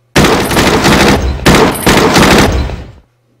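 Loud, sustained bursts of gunfire from the wartime strategy game Battle Academy, two long dense volleys back to back that fill the clip before cutting off abruptly into silence.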